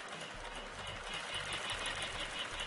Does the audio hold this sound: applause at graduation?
no